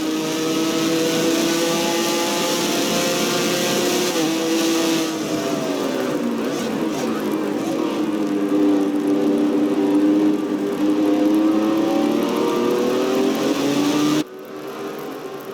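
Onboard a Red Bull supercar racing at Valkenburg Circuit, the engine roars loudly and continuously, its pitch rising and falling through gear changes and corners, with the sound cutting abruptly near the end.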